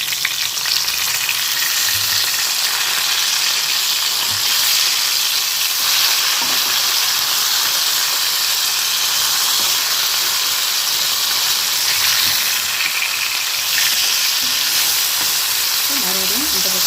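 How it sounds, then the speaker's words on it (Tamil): Fish pieces fry in a pan of hot oil for a Tamil fish fry, giving a steady, loud, broadband sizzle that runs continuously throughout with faint clinks as the fish is turned. "இப்போ மீன் நல்லா வெந்துக்கிட்டு நல்லா வேகட்டும்."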